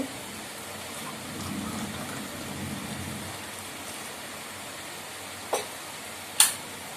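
Steady rain falls in a constant hiss, with heavier patter in the first few seconds and two sharp knocks near the end.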